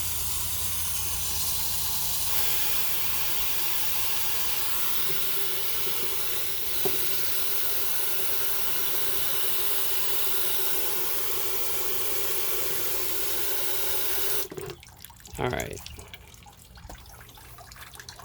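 Steady running water trickling and hissing into a hydroponic container as it fills, continuous and close, with a brief clatter and a short spoken word near the end.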